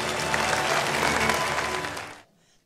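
An audience welcoming Chairman Lee Man-hee with loud, dense applause from many hands, sustained and steady for about two seconds before cutting off abruptly into near silence.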